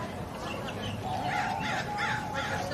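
A crow perched on a branch outdoors caws in short repeated calls, partly under a person talking nearby.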